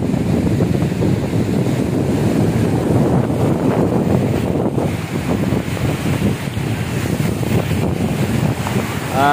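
Sea waves wash continuously at San Jose Bay Bay Beach Resort on a rainy day with brownish water, a steady broadband rush mixed with strong wind buffeting on the microphone, with no speech.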